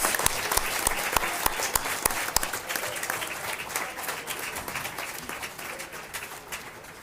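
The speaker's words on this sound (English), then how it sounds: "let's give all the teams another big round of applause" Audience applause for school teams at a board of education meeting, steady clapping from a sizable crowd that holds for several seconds and gradually thins, with a few sharper individual claps standing out.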